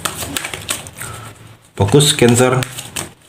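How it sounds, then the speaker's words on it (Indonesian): Tarot cards shuffled by hand, a quick ragged run of close papery flicks and riffles, with someone speaking over the shuffling. "Langsung saja saya shuffle kartunya"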